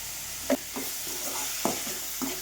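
A spoon stirs thick tomato chutney in a pan, with a few soft scraping strokes over a low background hiss of cooking.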